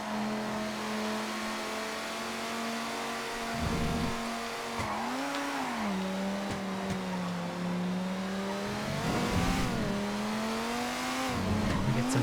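An F620 sports car races in GTA FiveM, its engine droning and revving up through gear shifts with rising and falling pitch, tires squealing briefly through corners, loud and continuous.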